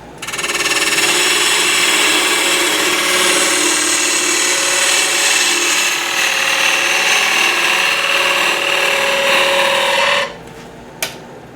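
A wood lathe runs steadily with a box on a faceplate, a loud continuous whir and cutting hiss that spins down and stops near the end, followed by a single tap.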